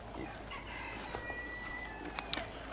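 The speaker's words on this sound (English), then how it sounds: "Rooster! The rooster's out." A rooster crows somewhere outdoors on a farm among mixed chickens, the call fairly faint and set back against steady background noise, with a few scattered clucks.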